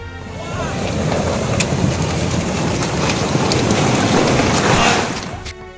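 Heavy surf from high ocean waves at Gunung Kidul, Indonesia, roars steadily, broad and loud, with waves churning continuously close by and a gusty rush of wind over the microphone.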